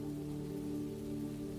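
Rain falls steadily at night, a soft, even wash of pattering drops with a low hum beneath and no other sounds.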